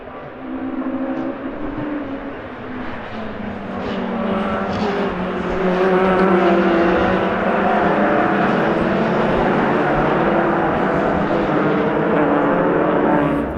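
Intermarque Silhouette racing cars at Brands Hatch rushing up to the Druid's hairpin, a loud sustained engine roar from a close pack that swells and stays strong throughout, with no talk.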